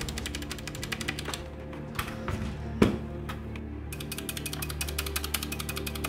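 Typing on a Redragon mechanical keyboard with brown switches: a steady run of soft, rapid key clacks, briefly pausing midway and then resuming at the same close, moderate level.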